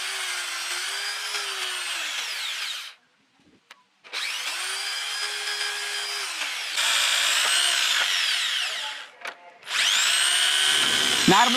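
A power drill bores a row of small holes through thin tin sheet to form a homemade sieve for a flour mill, loud whining bursts of several seconds each with brief pauses between, no talk.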